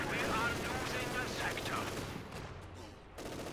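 A captured MG machine gun chatters in Company of Heroes in steady, dense bursts through a thick battle din. A commentator talks over the firing.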